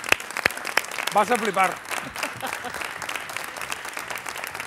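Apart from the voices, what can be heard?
audience applause for a comedian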